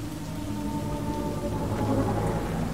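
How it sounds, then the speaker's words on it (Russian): Steady rain falling in the video game Cyberpunk 2077, a continuous soft wash with low rumbling underneath, heard alone without talk. "Дождь идет."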